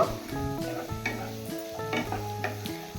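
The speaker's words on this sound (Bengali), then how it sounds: "এবার ক্যাপসিকাম আর মটরশুঁটি সবজির সাথে ভালো করে মিশিয়ে নেব।" Chopped capsicum and peas fry with other vegetables in a pan, a soft sizzle broken by several quick spatula stirs and scrapes, fairly quiet and close with no talking.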